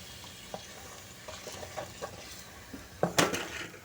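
Bhatura bread fries in hot oil with a soft background sizzle, broken by scattered close stirring and scraping clicks that grow busier and louder toward the end, with no talking.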